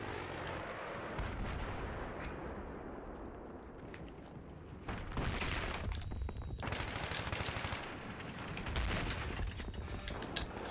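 Heavy gunfire in the video game Battlefield 3 rattles almost nonstop, with dense bursts and booming blasts layered into a loud, chaotic battle din.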